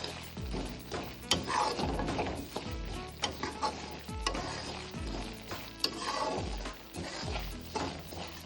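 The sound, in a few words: rava pongal mixture with boiled moong dal frying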